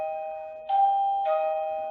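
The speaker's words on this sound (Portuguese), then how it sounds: "Tocou a campainha." A doorbell chimes two tones, a ding followed by a dong, clear and ringing in a quiet room.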